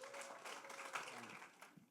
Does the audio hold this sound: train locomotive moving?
no